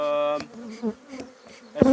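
Honeybees at a hive, agitated by a hornet, give a droning buzz with shifting pitch, brief and close, broken by soft handling sounds and a sharp knock near the end.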